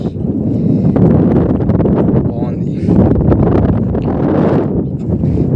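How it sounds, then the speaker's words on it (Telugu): Strong wind buffets the microphone at a lakeside viewpoint, a steady heavy rumble under close conversational talk throughout. "కాకపోతే మొత్తం విండే వస్తుంది"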